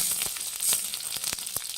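Garlic sizzles in a pan of hot oil, a steady crackling hiss with scattered sharp pops across a short stretch, fairly quiet and close, no voices over it.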